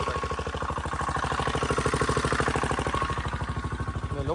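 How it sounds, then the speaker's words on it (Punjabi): A Mahindra tractor engine idles after being kick-started, giving a steady, rapid low chugging pulse that stays close and even throughout, with no talk over it. "ਇੱਕ ਵਾਰ ਸਟਾਰਟ ਵਧੀਆ ਹੋ ਗਿਆ ਪਹਿਲੀ ਕਿੱਕ ਸਟਾਰਟ ਹੋ ਗਿਆ"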